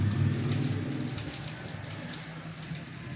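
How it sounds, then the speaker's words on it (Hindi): Heavy rain falling steadily outside a home overlooking a neighbour's house and a road, a continuous dense hiss that stays loud throughout with no one speaking. "देखिए कितनी बारिश हो रही है"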